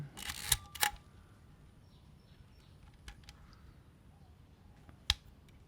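A Praktica Nova SLR film camera shutter fires at 1/60 second, giving a crisp close double mechanical clack near the start, then quiet, then another single sharp click near the end.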